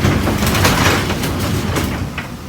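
A garage door, just adjusted for spring tension, rolls along its track with a continuous loud rumbling and rattling, with a few clacks and knocks over the few seconds of travel.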